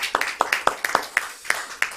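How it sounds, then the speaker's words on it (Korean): Scattered handclaps from a church congregation during a Korean Easter sermon, about eight sharp separate claps over two seconds, moderately loud against a quiet room rather than full applause. "하나님께 영광의 박수 드리겠습니다."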